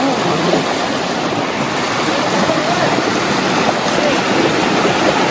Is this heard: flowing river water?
yes